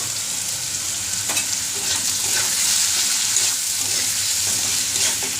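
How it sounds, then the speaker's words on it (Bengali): A pan of vegetables frying with turmeric, salt and cumin powder gives a steady, quiet sizzle with occasional stirring scrapes, and no voices. "এটাকে এখন একটু ভাজা ভাজা হতে দিব"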